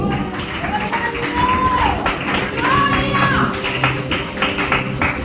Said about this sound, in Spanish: Oye, ese aplauso a Jesús en esta noche